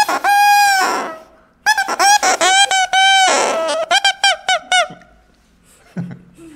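A bassoon reed blown on its own imitates a duck call with loud, nasal, honking squawks: a few long calls, then a quick run of short bursts, tapering to softer blips before a low thud.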